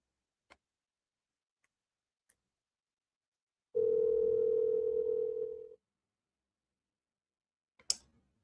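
A single steady ringback tone sounds for about two seconds while a number is being called back, set between faint clicks in an otherwise quiet line.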